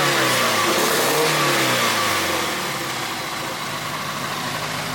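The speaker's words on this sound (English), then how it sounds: "Yeah, it's definitely got a miss." A big-turbo AWD 1G Mitsubishi Eclipse GSX engine runs close by with a misfire, revving briefly and then settling into a rough, uneven idle, with no talking over it.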